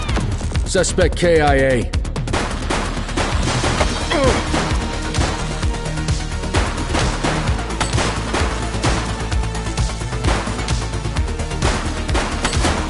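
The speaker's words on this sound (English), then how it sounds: "She's shooting!" Rapid bursts of gunfire from the police video game The Precinct crackle loudly and close, dense at first and then scattered, with shouted voices and radio chatter over the shots.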